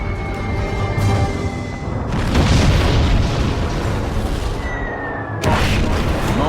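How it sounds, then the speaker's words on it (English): Bombs exploding with violent force on ships at Truk's primary anchorage between Dublon and Eaton Islands, heavy booms rolling into one another across a sustained roar, with a fresh sharp blast near the end. "multiple vessels and Truk's primary anchorage between Dublon and Eaton Islands explode with stunning violence"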